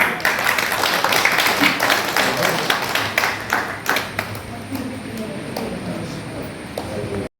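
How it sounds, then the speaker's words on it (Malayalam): An audience at an elders' club gathering claps together in a steady, dense patter of applause that slowly thins out, with some voices underneath. "കൈയടിക്കാം"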